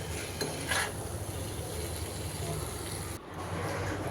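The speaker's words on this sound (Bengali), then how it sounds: "এখন এই পটলটার সাথে কিছুক্ষণ ভেজে নিব" Pointed gourd sizzles in a pan with green chilies, a steady frying hiss with occasional utensil knocks and a sudden brief drop in level near the end.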